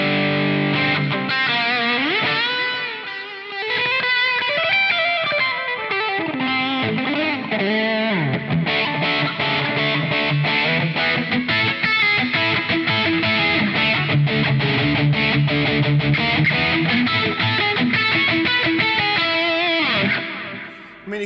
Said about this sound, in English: Let's try out a few different amps, maybe like different distortion sounds.